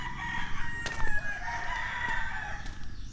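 Roosters crow in a brief burst of overlapping calls at moderate distance over a noisy outdoor background, with a few short sharp clucks, in a yard holding dozens of birds in the Philippines.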